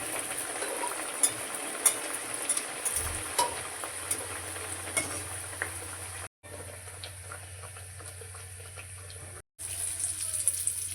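Pea kachori frying in hot white oil in a wok, giving a steady close hiss and crackle that briefly cuts out twice.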